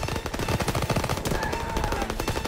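Continuous machine gun fire rattles loudly and densely in a World War II battle in the Call of Duty WW2 video game, with overlapping bursts and no speech.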